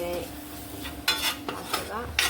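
A spoon scrapes and knocks against a pan while spice powder is stirred into fish masala, a few sharp clinks and scrapes over a faint low sizzle.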